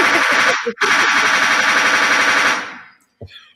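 Rapid gunfire sound effect played between rounds of a show, a loud continuous machine-gun-like burst lasting a couple of seconds, briefly broken once, then fading out.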